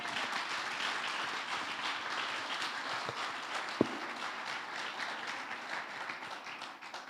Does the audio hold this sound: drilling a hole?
no